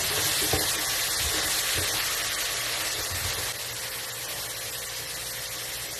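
Long beans stir-fried in a hot pan, a steady loud broadband sizzle with scraping stirring throughout, slightly quieter in the last seconds.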